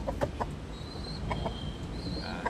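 A gamecock, a fighting rooster, gives a few soft, short clucks nearby over a low background hum.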